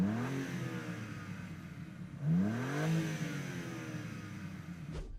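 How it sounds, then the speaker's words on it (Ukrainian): Car engine revving in a single burst, pitch rising and falling near the middle over a steady idle, close and moderately loud, with no talking. "Піддай ще трошки обертів."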